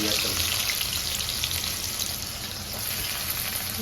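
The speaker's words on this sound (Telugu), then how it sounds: "ఆయిల్ అయితే హీట్ అయింది చిన్నగా కట్ చేసుకున్న మీడియం సైజ్ ఉల్లిపాయలు" Finely chopped medium onions hit hot oil with a loud, continuous, close hiss and sizzle that holds steady throughout.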